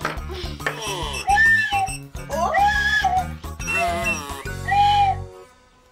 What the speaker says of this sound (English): Wow, bird whistlers.